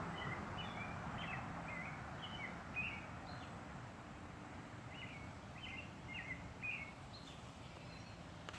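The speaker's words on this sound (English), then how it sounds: "You hear the birds?" Birds singing outdoors in a scattered series of short high chirps and tweets, faint and distant over a low steady background hiss.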